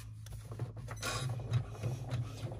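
An embroidery machine stitching onto a pleated 3D bag held in the hoop, a fairly quiet, rapid mechanical whirring with a steady rhythmic needle thump and a low motor hum running throughout.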